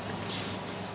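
Permethrin insecticide sprayed onto clothing as tick protection, a steady hiss of aerosol mist held for about a second with no breaks, close and fairly loud.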